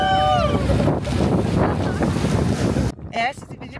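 A speedboat runs fast across open water near Hurghada, its engine roar mixed with heavy wind buffeting and splashing spray, loud and continuous, while a voice is faintly heard under the noise.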